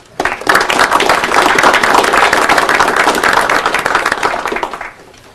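An audience at a Monroeville, Pennsylvania municipal council meeting breaks into a full round of applause, dense and steady for about four and a half seconds before trailing off.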